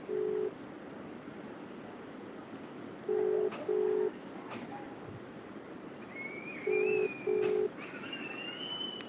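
A phone call is placed with a ringback tone, heard as evenly spaced pairs of short steady beeps over faint background hiss and distant ambient noise.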